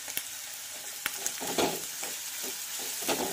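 Green chillies and curry leaves fry in hot oil with a soft, steady sizzle and a few scattered pops and stirring clicks, heard quietly with no talk.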